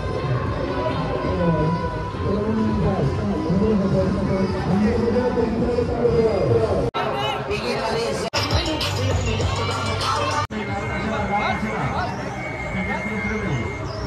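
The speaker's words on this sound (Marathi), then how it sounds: "गर्दी पण खूप आहे." Dense crowd babble at the Mahalaxmi fair in Dahanu, a steady murmur of many voices filling the whole stretch with occasional bangs, while someone talks close by over it.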